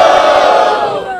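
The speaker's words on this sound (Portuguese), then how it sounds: "Barulho para as rimas de Jessiquinha." A loud crowd roars and shouts at a freestyle rap battle event in Barueri, a dense close burst of cheering voices that holds steady and then begins to fade.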